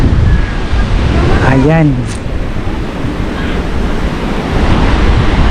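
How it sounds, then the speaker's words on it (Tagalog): Strong wind buffets the microphone while waves crash at the seashore, a loud continuous roar; a short spoken word cuts in briefly. "Mafe-feel mo talaga guys yung lakas ng hangin dito."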